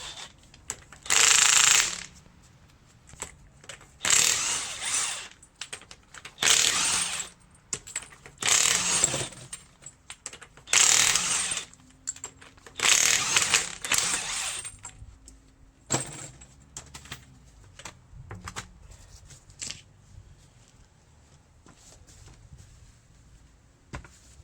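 A ratchet with a 22mm socket works a bolt loose under a Range Rover L322 front subframe, giving loud bursts of rapid clicking separated by short pauses, then quieter scattered clicks and taps toward the end.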